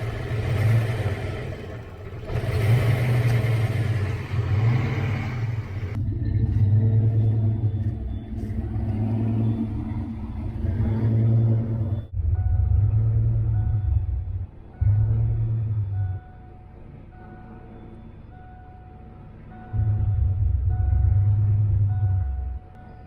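A turbocharged Foxbody Mustang idles with a deep rumble that repeatedly surges up and drops back, uneven bursts over about twenty seconds with a quieter lull near the end, close and without speech.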